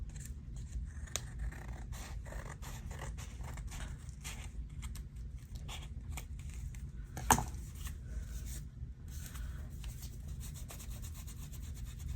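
Scissors trimming tissue paper, giving soft, quiet snips and light paper rustles spread through the clip, with one sharper click near the middle and no talking.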